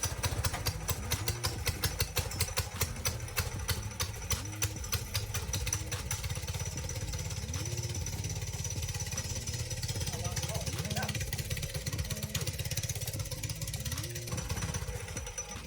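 A go-kart engine idles nearby with a fast, even, rattling putter that holds steady throughout, and faint voices sound underneath.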